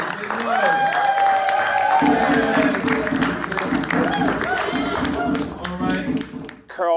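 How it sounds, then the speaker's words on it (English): A crowd at a Kwanzaa celebration claps and cheers loudly and steadily, with voices shouting over the dense applause before it thins out near the end. "Everybody applaud now."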